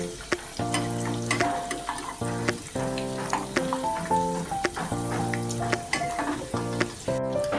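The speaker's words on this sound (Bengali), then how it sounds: "দেখুন আমি কিন্তু একটু বেশি কড়া করে একটু ভেজে নিচ্ছি" Dhoka lentil cakes deep-frying crisp in hot oil give a constant bubbling sizzle, partly masked by tuneful background music playing over it.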